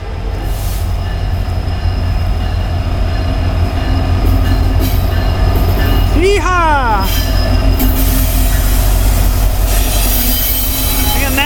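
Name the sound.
train passing slowly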